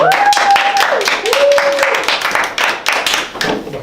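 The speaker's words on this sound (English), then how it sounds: "Clap it up." A studio audience claps in uneven bursts with several sharp spikes, heard alongside voices and a whooping cheer that rises and falls over the first seconds.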